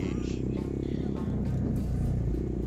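Steady low engine drone from a Scale X150 motorcycle on a trail ride, running continuously beneath a voice.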